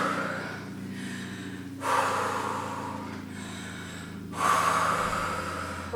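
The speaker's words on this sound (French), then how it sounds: "On va essayer d'apaiser la respiration et de calmer le rythme cardiaque." A person breathes heavily while recovering after a home cardio workout, with two strong, loud, rasping breaths separated by quieter stretches of breathing, close up.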